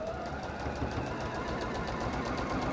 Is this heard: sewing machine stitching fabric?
yes